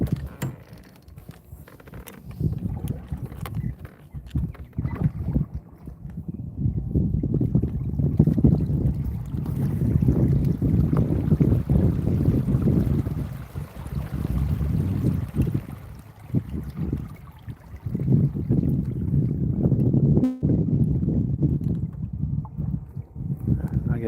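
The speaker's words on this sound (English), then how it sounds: "Wind's blowing." Gusting wind buffets the microphone out on the water during kayak bass fishing, low rumbling surges rising and falling over the whole stretch, with faint creaks and a sharp knock from the kayak.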